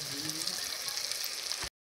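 Masala of chili powder and green chilies fries in hot oil, giving a steady, close sizzling hiss that cuts off abruptly after under two seconds.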